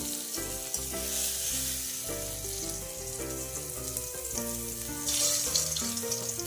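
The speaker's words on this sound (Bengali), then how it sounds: "আমার বেগুনগুলো ভাজা হয়ে গেছে এবার আমি এইগুলোকে তুলে নেব" Eggplant pieces frying in oil give off a steady, fairly loud sizzle that runs throughout, with background music playing over it.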